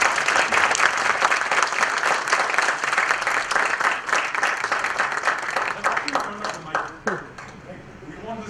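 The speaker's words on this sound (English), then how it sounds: "Everybody, a big hand of applause." Dense audience applause for a speaker at a TiECON Chandigarh business event, loud and sustained, then thinning after about seven seconds as voices begin talking over the last claps.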